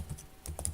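Keys on a computer keyboard are tapped as a password is entered, a short run of quiet, uneven clicks at close range with no talk.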